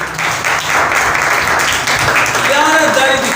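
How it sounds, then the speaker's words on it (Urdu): Loud, steady applause from a church congregation during a Pastor's sermon, filling the whole stretch with dense clapping and crowd noise. "زوردار تالیاں"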